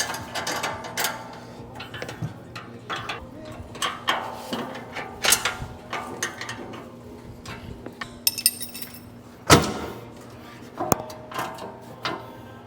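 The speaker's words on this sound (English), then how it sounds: "Gotta use some little hand wrenches because them sockets don't fit in there good." Small hand wrenches tighten brush guard bolts on a Ranger, ratcheting clicks and metallic clinks coming in uneven bursts, with one sharp clank partway through.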